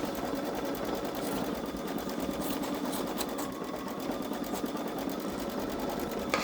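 A Baby Lock Solaris Vision embroidery machine stitches on denim fabric, running with a fast, steady mechanical rattle and rhythmic needle clatter that continues without pause.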